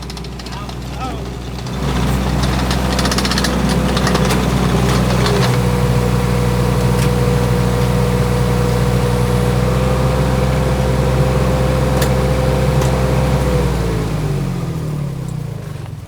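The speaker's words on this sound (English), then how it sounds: "I'm worried about even getting the excavator inside of the doorway" Excavator engine idling at a steady, loud rumble with a constant low drone, starting up after a moment and easing off near the end, at a home building site in the mountains.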